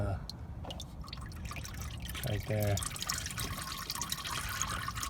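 Transmission fluid drains from a Dodge Grand Caravan during a fluid and filter change, trickling and dripping steadily into a catch pan, with a few brief metallic clinks and someone speaking briefly.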